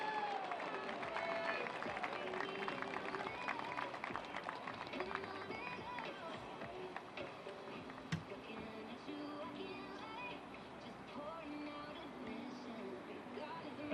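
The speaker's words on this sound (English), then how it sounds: "a round of applause to CSU Pueblo on a fantastic season" Crowd applause at the 2023 NCAA Division II men's soccer championship ceremony honoring the CSU Pueblo runners-up, a steady wash of clapping and cheering from a large audience lasting throughout, with a few louder bursts.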